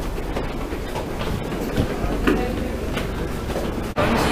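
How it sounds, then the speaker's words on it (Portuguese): A New York subway train rolls along with a steady rumbling clatter and rhythmic rail clicks, heard from inside the car, with a sharp jolt near the end. "já começamos o dia andando de metrô"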